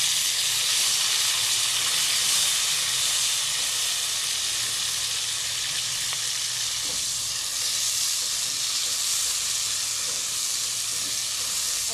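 Tomatoes sizzling in a pan with browned onions for an aloo anda curry, a loud, steady, close hiss and frying crackle that holds evenly throughout with no talking.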